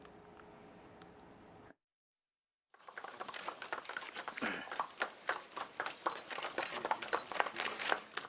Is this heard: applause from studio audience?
no